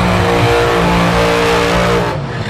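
A top alcohol funny car at a drag racing qualifying session revs loudly and steadily up close for a couple of seconds before the roar drops slightly at the end, with no voices.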